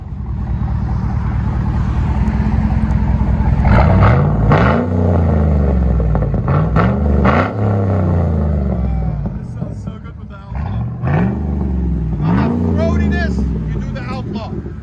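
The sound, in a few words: 2012 GMC Yukon Denali 6.2L V8 backing out, Flowmaster Outlaw exhaust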